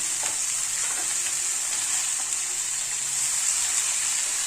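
Chopped bitter gourd and potato fry in oil, giving a steady bright sizzle that holds evenly throughout, close and fairly loud, with a few faint scrapes of stirring.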